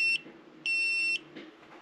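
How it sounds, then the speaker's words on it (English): An EggTimer rocket altimeter, just armed, gives shrill electronic beeps: a short one, then a longer tone after a pause, close and clear over a faint room hum. "it does that 3 beep, and then it'll start to chirp"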